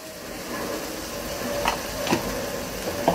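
Asafoetida and turmeric sizzle in hot oil, making a steady, soft frying hiss with a few light stirring taps and clinks scattered across it.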